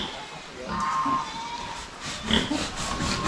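Pigs under four months old grunt and oink on a farm ahead of weighing for sale, a few short snorts and grunts over a low background, with faint talk nearby.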